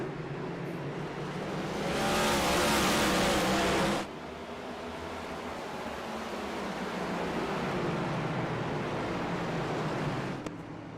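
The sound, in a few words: race car engines in a virtual NASCAR race at Martinsville, video game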